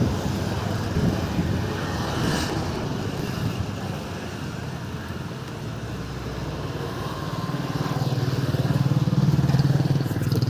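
A vehicle rumbles along a street past footpath shops, a steady engine drone that swells louder toward the end as it passes close by, with no talking.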